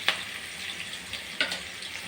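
Big onions with a little salt sauté in a pan while a Kerala ivy gourd stir-fry is prepared, a soft steady frying hiss with two brief sharp stirring clinks, close and moderate in level.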